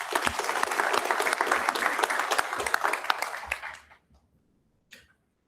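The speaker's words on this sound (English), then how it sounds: "So that achievement deserves a tremendous round of applause." Loud, dense audience applause at a school board of education meeting honoring a student athlete's achievement, sustained for several seconds before fading to silence with one last isolated clap.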